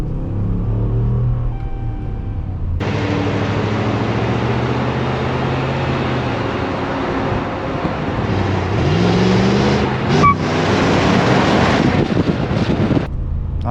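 A Ram 1500 Classic truck in rear-wheel drive with traction control off spins its rear wheels: a close engine revs and falls, with a broad roar of tire spin and buffeting wind noise throughout.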